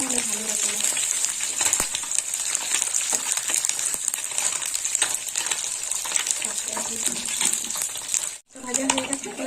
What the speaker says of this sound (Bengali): মাছটা একটু ভালো করে ভাজা না হলে ভালো লাগে না।